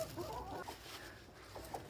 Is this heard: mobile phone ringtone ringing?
no